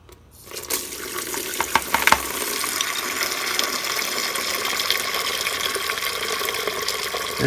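Water rushes steadily through the radiator of a 1990 Mazda Miata during a coolant flush, a continuous hissing gush that starts after a brief quiet moment and runs unbroken to the end.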